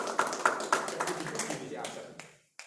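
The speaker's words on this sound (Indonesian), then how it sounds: "Profesor, tepuk tangan." A small group claps on cue for a professor at a community mentoring meeting in Surabaya, giving sparse, sharp, evenly spaced claps close by with a voice faintly underneath, before the clapping thins out and stops.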